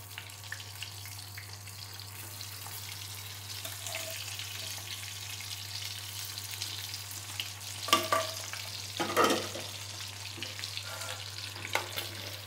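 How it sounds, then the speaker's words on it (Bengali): Beef frying in its own rendered fat, a low steady sizzle under a constant hum, with a few louder spatula scrapes and spatters midway. "এই তেলে, এই চর্বির তেলে দিয়ে দিলাম, দিয়ে ভাজবো এটাকে।"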